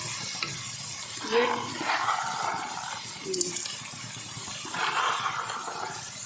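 Peas frying with minced meat in a pan give a soft, steady sizzle, broken by scraping stirring strokes, with a muffled voice now and then.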